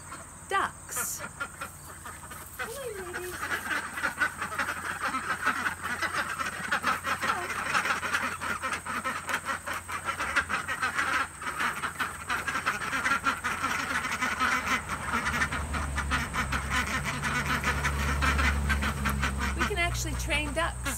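Ducks quack and chatter in a busy flock nearby at a duck training camp, with panting and some talk mixed in.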